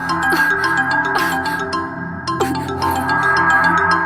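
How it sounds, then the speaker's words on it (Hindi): A phone ringtone melody plays steadily for a few seconds, clear and fairly loud, with no one speaking over it. "लो, फिर फोन आ गया।"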